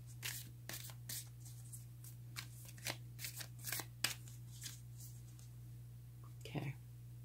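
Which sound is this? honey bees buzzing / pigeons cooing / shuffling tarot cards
shuffling tarot cards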